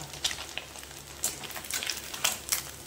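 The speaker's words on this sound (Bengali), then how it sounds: "এবারে মাছটা ভাজা হয়ে এসছে প্রায়" Small morola fish fry in hot oil with a steady hiss and irregular sharp pops and spatters, the crackles close and moderately loud.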